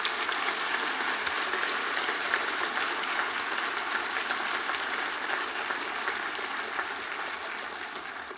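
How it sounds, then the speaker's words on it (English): Audience applause at a school honors ceremony, a sustained, dense wash of clapping from a large crowd that holds steady for several seconds and tapers slightly toward the end, with no talk over it. "Let's give them a nice round of applause."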